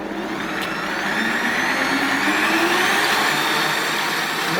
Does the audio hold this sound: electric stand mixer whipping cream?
yes